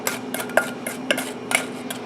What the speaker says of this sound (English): so I'm going to use my wooden spoon to scrape